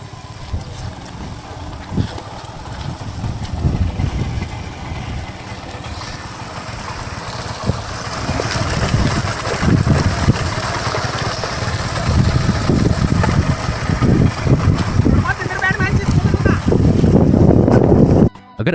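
A motorbike engine runs steadily to drive an improvised peanut-separating machine built from a bike tyre, a continuous rumbling drone that grows louder and rougher toward the end, with voices faintly under it.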